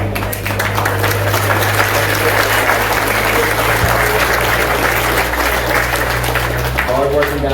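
An audience at a prize ceremony during the KalashBash 2020 event breaks into sustained applause, dense clapping from a sizable crowd that carries steadily for several seconds with a low hum underneath and some voices mixed in.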